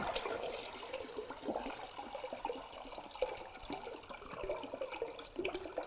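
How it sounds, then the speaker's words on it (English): Water swirls and drains out of a bottle in a tornado-in-a-bottle demonstration, a faint, continuous gurgling trickle with no talking. "So what I just did was I made a little bit of a tornado in a bottle."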